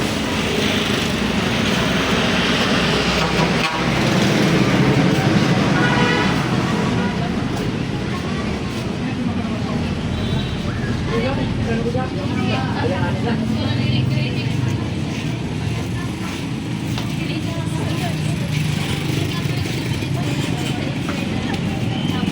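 In Nabua's busy town centre, engines and passing vehicles, including small high-revving motors, fill a continuous near roadside roar, with voices audible here and there beneath the traffic.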